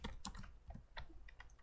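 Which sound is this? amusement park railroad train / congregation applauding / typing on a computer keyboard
typing on a computer keyboard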